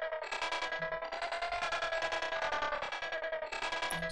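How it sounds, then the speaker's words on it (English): A stretched loop processed with EQ, tremolo and dirt effects in Bitwig Studio hums as a dense, bright sustained tone with a rapid pulsing tremolo flutter, steady and continuous for a few seconds. "I put some EQ, tremolo, dirt, and another EQ. It sounds like this."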